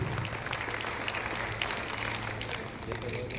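Audience clapping at a government ceremony with the state chief minister on stage, a steady dense applause filling the hall throughout, with faint crowd murmur underneath.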